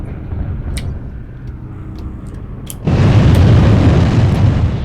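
A mech blowing up in the video game Mechwarrior Online: a sudden loud, broad explosive burst after a quieter stretch of low rumble, with the blast sustaining to the end.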